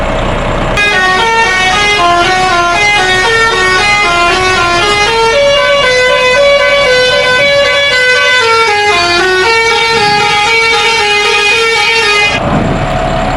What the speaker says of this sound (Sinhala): මේ හෝන් ටික චෙක් කරලා බලමු මම පළවෙනි හෝන් එක ගහ